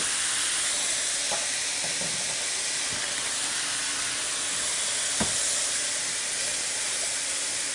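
Turkey meat browning in a hot pan gives a steady, loud sizzling hiss throughout, with a few faint clinks and stirring knocks scattered through it.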